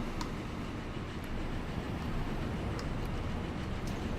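A train in the Transport Fever game rolls steadily with a continuous low rumble and faint higher clicks, constant in loudness throughout.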